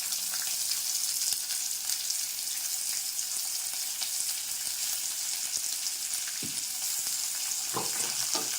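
Onions with curry leaves frying in a pan for appalam kuzhambu give a steady, close, bright sizzle that stays even throughout, with a few soft clinks and stirring bumps near the end.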